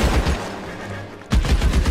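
Gunfire in the video game L.A. Noire: loud, rapid bursts of shots at the start, a brief lull, then another dense volley close up, with no talk.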